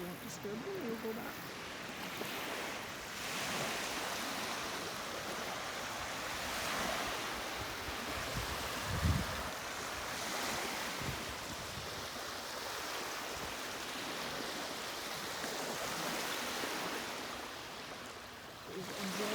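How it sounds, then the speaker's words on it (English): Waves wash onto a hidden beach at Port Hope, a steady rolling surf with gentle swells and some wind rumble, heard alone at moderate distance. "Please enjoy the waves on the beach."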